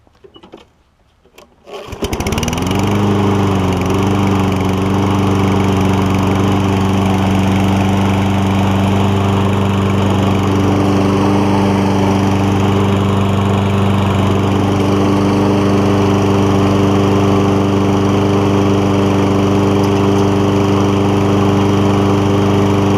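A Toro Recycler lawn mower with a Kohler engine and a worn governor starts after a brief rattle, then settles into a loud, steady, close-up drone with a slight surge while cold.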